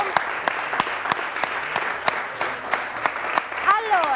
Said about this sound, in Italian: fatevi comunque un applauso